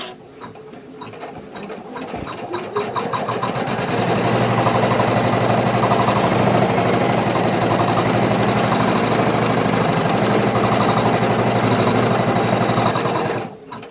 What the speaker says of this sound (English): now it's going to go around this again and do the placement stitch for the skin tone